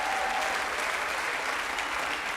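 A comedy-show audience applauds Carl Gosselin, a dense, steady wash of clapping filling the whole moment without pause.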